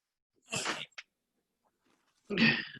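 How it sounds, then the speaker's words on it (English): A dog makes a couple of short, breathy snorting or sneezing noises close by, two separate bursts with quiet in between. "I got a dog that's making a lot of noise today"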